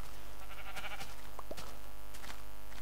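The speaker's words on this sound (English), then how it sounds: "Where'd that last sheep go?" Short bleats from a sheep in Minecraft, two or three brief calls over a constant background hum, with no voices.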